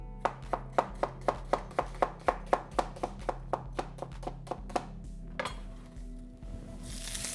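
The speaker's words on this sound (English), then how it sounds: "I'm just going to chop mine." A knife chops onion on a board in about seventeen quick, even strokes, fading slightly, then a brief clatter follows and a soft rustle.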